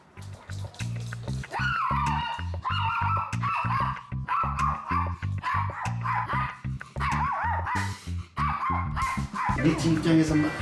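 A dog named Rich barks and yips repeatedly in rapid, agitated bursts, close and loud throughout, with a few whimpering notes mixed in.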